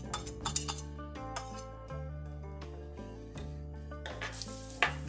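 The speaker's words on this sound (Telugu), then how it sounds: "ఇప్పుడు దీనిలో మనం కట్ చేసి పెట్టుకున్న ఉల్లిపాయ పచ్చిమిరపకాయ వేసుకొని వేయించుకోవాలండి" Onions and green chillies fry in oil in a kadai, giving a steady sizzle with scattered clinks of a spoon against the pan throughout, and no voices.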